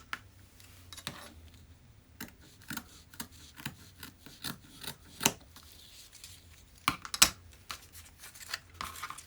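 Scissors snip through fabric while a mini dress is cut from a kaftan pattern, giving quiet, irregular cuts with sharp clicks spread across the clip.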